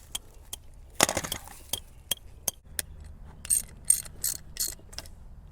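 A ratchet wrench with a 3/4 inch socket works on a dump truck, sharp metallic ratcheting clicks in short irregular bursts, close and distinct against a quiet background.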